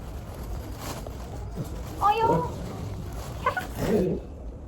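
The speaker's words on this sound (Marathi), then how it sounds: "ही माझी मांजर." A cat meows twice close by, the cries drawn out and whiny, separated by a pause and set against quiet room noise.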